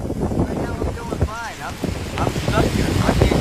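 Strong wind buffets the microphone in loud rumbling gusts while a voice speaks faintly beneath it.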